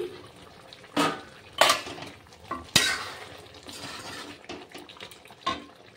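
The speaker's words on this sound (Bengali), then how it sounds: "কিছুক্ষণ ধরে কষিয়ে নেব" Chicken sautéing in a pan for a Bengali chicken dakbanglo, a low frying hiss broken by several sharp scrapes and knocks of a spoon against the pan, close and with no talk.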